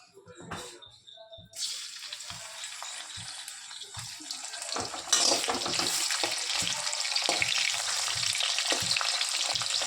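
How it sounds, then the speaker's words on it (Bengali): Salted dried fish (lobon shutki) fries in hot oil with a steady, close sizzle that begins after a brief quieter stretch and grows louder and denser partway through, with soft stirring knocks underneath. "শুটকিটা এখন ভেজে নেব"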